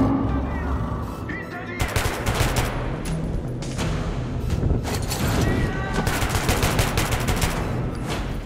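Gunfire in the video game Metro 2033 Redux: a dense, loud burst of rapid automatic shots and booming reports, continuous bursts after a brief lull near the start, with a voice speaking underneath.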